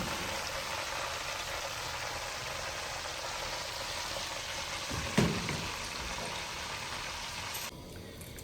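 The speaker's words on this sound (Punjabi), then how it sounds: "ਦੂਸਰੀ ਸਾਈਡ ਹਾਫ ਫਰਾਈ ਕਰਨਾ ਹੈ" Chicken pieces for degi charga half-frying in a pan, giving a steady, even sizzle that holds throughout, with one brief clink partway and the frying dropping slightly quieter near the end.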